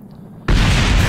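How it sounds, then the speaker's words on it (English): Spacecraft explosion in Kerbal Space Program, a sudden loud boom after near silence that holds as a dense, roaring blast. "Lots of explosions."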